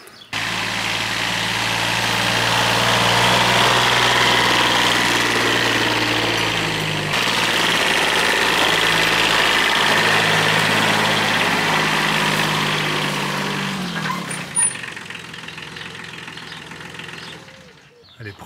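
A Kubota tractor idles steadily nearby with a constant mid-pitched engine drone for most of the stretch, fading and dropping away near the end.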